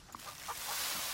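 Chickens cluck and honk in the farming video game Farm Together, a few short bird calls over a steady bright background hiss, brief and moderately loud.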